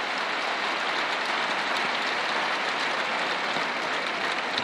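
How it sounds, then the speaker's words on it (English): Tennis crowd at the 2008 Barcelona Open final applauding a rally, a dense, even wash of clapping throughout, loud and sustained with no voices over it. "Warm applause."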